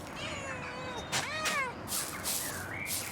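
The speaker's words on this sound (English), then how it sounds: "Let's go, pet the cat" A cat in Pentiment meows several times as it is petted, a string of clear rising and falling meows over steady background ambience.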